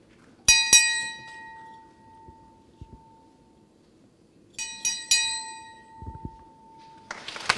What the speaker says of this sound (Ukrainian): корабельний дзвін сповістив про початок великого гала-концерту.